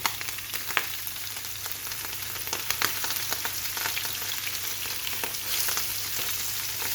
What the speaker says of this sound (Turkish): Şimdi kızmış olan tavamıza güzelce balıklarımı diziyorum